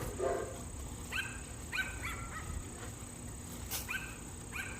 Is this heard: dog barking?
yes